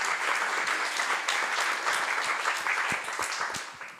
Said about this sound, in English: Can we have a big applause for our speakers again?